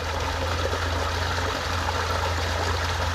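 Water runs through the skimmer of a garden pond, a steady close trickling flow over a low constant hum, with no one talking.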